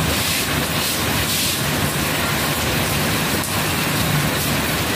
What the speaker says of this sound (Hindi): कह रही बारिश अच्छी आ रही है